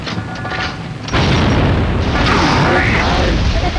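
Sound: Boomshot grenade launcher explosion in the video game Gears of War

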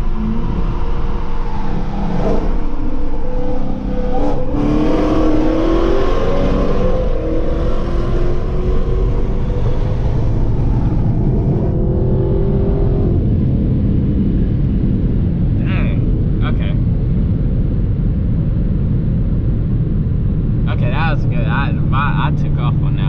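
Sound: Dodge Hellcat cars launching with wheelspin in a drag race

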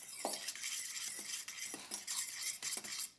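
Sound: mixing graham cracker crumbs and sugar

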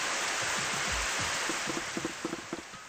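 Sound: sprinklers spraying water in the video game Super Danganronpa Another 2

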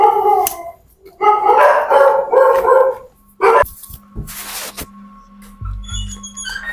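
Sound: dog barking at night

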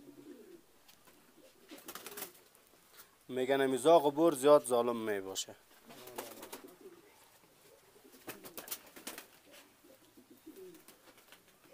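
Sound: pigeons cooing

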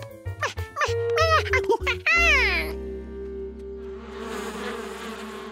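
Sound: bees buzzing around a hive in a cartoon

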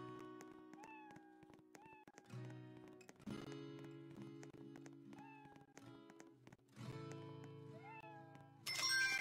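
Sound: cat meowing in a Roblox video game

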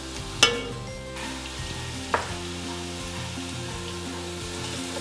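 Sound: onions and chillies sautéing in a pan

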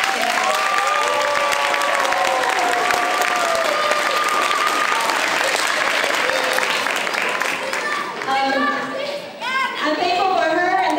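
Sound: applause

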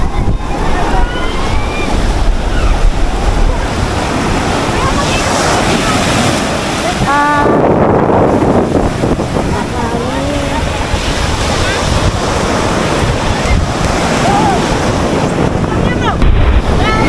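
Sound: strong wind at the seashore

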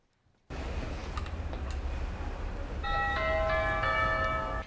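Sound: doorbell ringing

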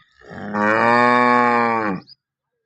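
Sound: cow mooing

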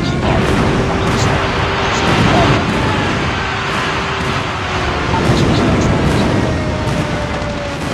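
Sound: friendly airstrike explosions in video game Arma 3

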